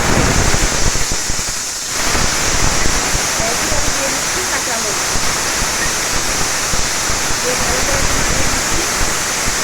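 Fenugreek seeds and eggplant sizzling in hot oil in a home kitchen, a loud continuous hiss and crackle with a brief dip early on, with a voice speaking over it.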